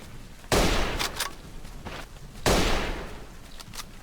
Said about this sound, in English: I'll try taking a shot over there